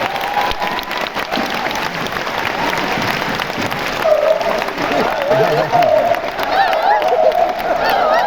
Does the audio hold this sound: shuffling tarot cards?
no